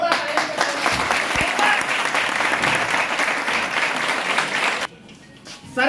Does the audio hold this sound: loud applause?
yes